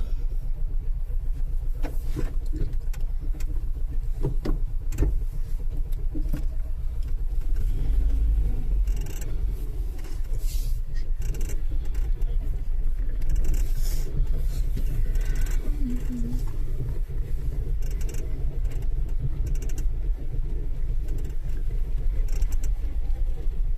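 A car drives along on the way to school, heard from inside the cabin as a steady low engine and road rumble that runs without a break, with no one talking.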